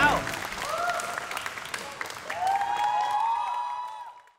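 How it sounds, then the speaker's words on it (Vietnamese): A studio audience applauds a team on a Vietnamese game show party night, steady clapping running the whole time with voices and cheers over it. "Một tràng pháo tay dành cho đội của Vũ Châu"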